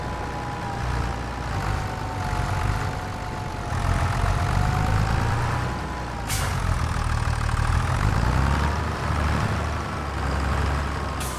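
A tractor engine in Farming Simulator 25 runs at a steady, loud drone with a deep low rumble throughout, with brief hissing bursts around the middle and near the end.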